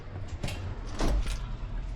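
A sliding side door on a 2018 Toyota Super Grandia van rolls along its track and thuds shut, a short close mechanical slide and clunk with no talk.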